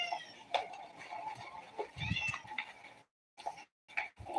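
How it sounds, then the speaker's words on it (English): A cat meows several times in short, high, wavering cries, fairly faint and close, separated by brief pauses and a moment of near silence. "so of course it would have little cat meows in it"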